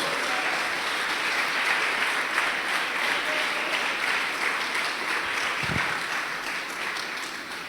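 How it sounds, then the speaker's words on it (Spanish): A church congregation applauds in a steady, full wash of clapping that holds evenly throughout, loud and close, with no clear talk over it. "¡Oh, denle un aplauso a Dios!"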